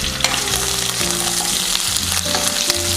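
Curry leaves and green chilies frying in hot oil for paneer 65, a steady close sizzle with crackling pops and stirring scrapes throughout, no voices.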